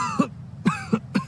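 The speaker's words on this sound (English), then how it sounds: "Why does this guy keep coughing?" A character in Genshin Impact coughs three times in quick succession, short sharp bursts close up with brief pauses between them.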